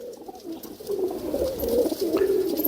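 Pigeons of the Punnu breed cooing continuously in a rooftop loft, a soft steady murmur of low throaty coos with no talk.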